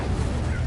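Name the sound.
Incendio fire spell being cast in the video game Hogwarts Legacy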